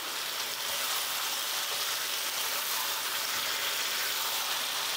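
Chicken pieces for a chicken curry fry in a pan and are mixed with a spatula, with a loud, constant, close sizzle crackling evenly throughout and no speech.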